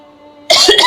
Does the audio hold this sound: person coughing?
yes